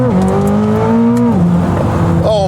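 A Corvette ZR1 engine accelerates hard through the gears, a loud, close roar climbing in pitch, dropping sharply at a shift, then climbing again.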